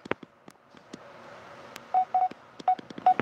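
Short electronic phone notification tones, several brief pitched beeps clustered in the second half, mixed with scattered clicks and taps against a quiet background.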